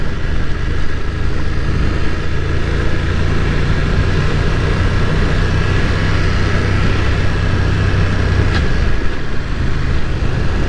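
A BMW F900R motorcycle is ridden at a steady pace, its engine droning loud and continuous under heavy wind rush for the whole stretch, with no talking.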